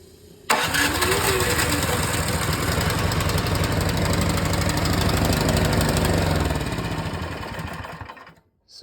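Snowblower engine fitted with a starter fires up and settles into a loud, steady close idle that runs for several seconds before cutting off abruptly.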